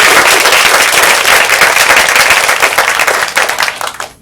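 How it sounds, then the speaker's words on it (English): A seated conference audience claps loudly at the end of a talk, a dense sustained round of applause that tapers off over a few seconds with no voices. "let's give a final round of applause."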